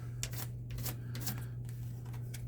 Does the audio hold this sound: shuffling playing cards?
yes